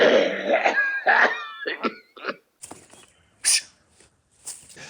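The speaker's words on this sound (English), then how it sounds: "I am prone to the odd little coughing fit" A rough, raspy coughing fit up close: several harsh throaty bursts, then a few sharper, breathier coughs separated by short pauses.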